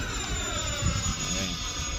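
An FMS A-10 Thunderbolt II RC model jet flies overhead in light wind, its ducted-fan whine steady and distant for a couple of seconds, with faint breezy rumble underneath.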